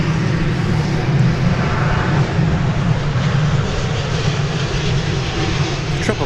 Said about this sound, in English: Triple 7 arriving from Los Angeles